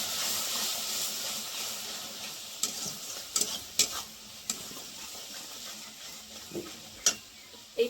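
Onion being stirred with mustard paste and chili powder in a frying pan: a soft continuous sizzle broken by scattered, sharp spatula scrapes and taps against the pan, close up, with no talking.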